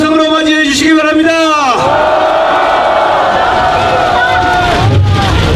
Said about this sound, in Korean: 여러분 함성으로 맞이해 주시기 바랍니다